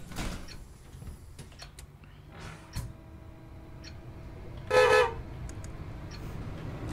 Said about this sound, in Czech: Divnej klakson